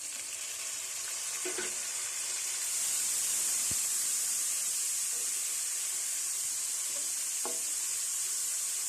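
Chopped tomatoes and green chillies sizzle and fry with browned onions in a pan, a steady close hiss throughout with a few soft stirring clicks and scrapes.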